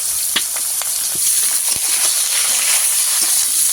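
Eggplant pieces and chilies frying in hot oil with potato, a loud steady sizzle with sharp crackles and pops, close by and without talking.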